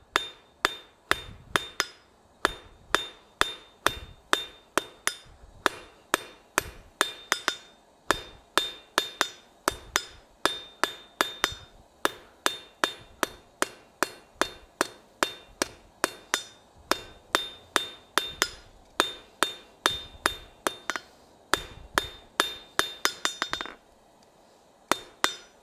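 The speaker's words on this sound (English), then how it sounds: "let's go to the anvil. All right, so now I need to continue to reduce the thickness of this." A blacksmith hammers hot metal on an anvil, drawing it down to reduce thickness. Dozens of loud, ringing, metallic blows land in a steady rhythm, close and alone, with a brief pause near the end.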